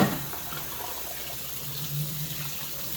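Cool water runs steadily from a tap over warm chickpeas in a rinser, a soft continuous splash and trickle at moderate level with no talking.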